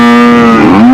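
A single loud, close cow moo from a Brangus cattle farm, a steady low bellow about a second long that dips slightly in pitch near the end.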